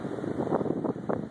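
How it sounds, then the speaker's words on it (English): Wind whipping through a heavy February snowstorm in Naperville, Illinois, a steady blustery roar with gusts swelling and fading, buffeting the microphone. "The wind is whipping, the snow is blowing"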